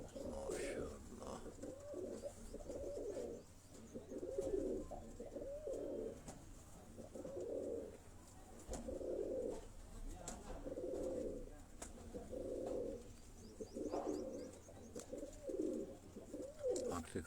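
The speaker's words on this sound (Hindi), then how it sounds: "ये दोस्तों कसूरी ब्लड लाइन में ये कबूतर जो है डॉक्टर साहब आपको दिखा" Kasuri bloodline pigeons coo in a steady rhythm of soft, repeated phrases, close and clear, with a voice speaking faintly at times.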